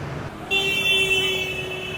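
Ho Chi Minh City street traffic with motorcycles, where a sustained car horn toot cuts in sharply over a low rumble of passing engines, brief and fairly close.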